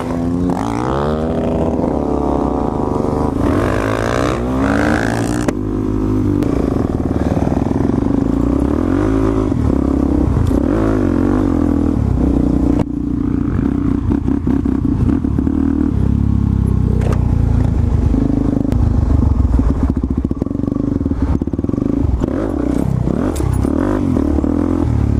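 Supermoto motorcycles riding off road alongside a sportbike, engines revving and rising in pitch near and loud, with gear changes, throttle blips and scraping clatter over rough ground for the whole stretch.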